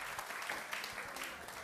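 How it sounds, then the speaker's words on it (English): A brief burst of applause from a live comedy show audience, steady dense clapping throughout, heard at low level. "Wanna clap for me, John?"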